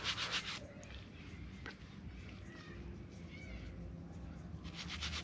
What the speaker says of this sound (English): when you scrub, try to scrub side to side.